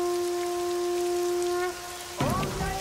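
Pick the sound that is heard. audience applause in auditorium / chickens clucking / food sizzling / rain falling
rain falling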